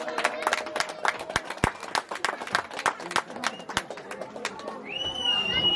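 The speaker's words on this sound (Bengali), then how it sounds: "সকলে জোরদার করতালি।" Scattered hand clapping from guests at a Durga Puja welcoming ceremony, sharp individual claps in an uneven rhythm over a few seconds, with voices and background chatter mixed in.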